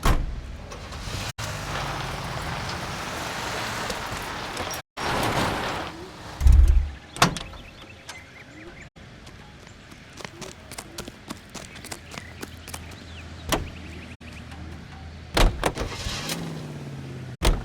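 A car in the video game L.A. Noire, with a door thudding shut, a short engine rev and a low idle under scattered clicks and knocks, with some brief silent gaps between them.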